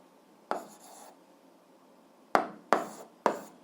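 Hand-writing an equation with a pen or marker during an eighth-grade algebra lesson; one brief stroke, then three close, crisp strokes in quick succession, quiet and near, with no talking.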